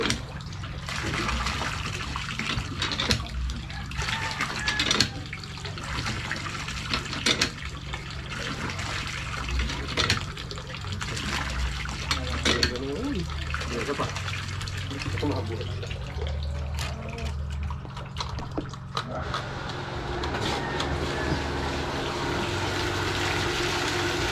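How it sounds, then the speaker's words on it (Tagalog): Water from a hand pump gushes and splashes steadily for a long stretch, close by, with people talking over it now and then. "Yung kalas ng tubig sa poso."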